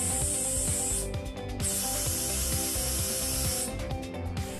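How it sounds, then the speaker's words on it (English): Air hisses through a valve as the lumbar support of a National Seating NS2000 seat with HP suspension inflates, bursts of spraying air with mechanical clicks and ratcheting sounds from the seat, close and alone. "Pull up to inflate and increase level of support."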